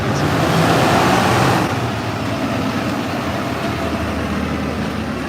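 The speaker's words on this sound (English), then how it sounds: "We got a big old truck." A big truck rumbles past on the road, a loud broadband roar that peaks early and then eases into steady traffic noise, with no talking.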